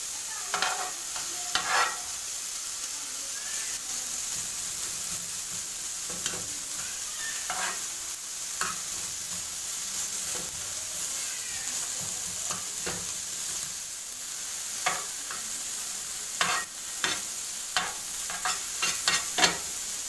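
Bacon frying without oil in a pan, crackling and sizzling steadily at close range, with sharper pops and spits scattered throughout and clustering toward the end.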